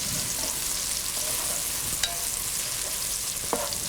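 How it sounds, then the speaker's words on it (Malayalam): Chopped onions with salt sauté in a pan for egg biryani, producing a constant dense hiss of frying with a few sharp clicks of a spoon against the pan, close and unbroken by speech. "നമ്മൾ കട്ട് ചെയ്ത് വെച്ചിരിക്കുന്ന സവോളയും ആവശ്യത്തിന് ഉപ്പും ഇട്ട് വഴറ്റുക."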